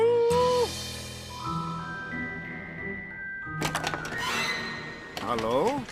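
A cartoon horse whinnies in a high, wavering cry near the end, with clunky hoof-like knocks before it and voices talking over the scene.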